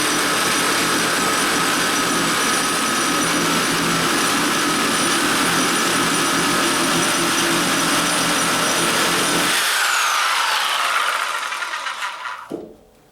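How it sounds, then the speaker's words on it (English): A Milwaukee 6523-21 Orbital Super Sawzall reciprocating saw with a rotating handle cuts continuously and loudly up close, its harsh buzzing drone holding steady for about ten seconds before the blade breaks through and the motor winds down. "turn the blade sideways, lock it into place, and then you just go ahead and cut that completely off"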